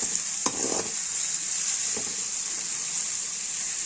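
Onions, garlic and dried chillies sauté in a pan, giving a steady, fairly quiet sizzle with a bright hiss, broken by a couple of brief stirring scrapes near the start.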